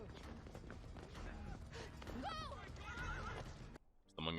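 A horse neighs and whinnies loudly amid clip-clopping hooves and commotion in an episode of The Last of Us, the scene cutting off near the end before a burst of voices.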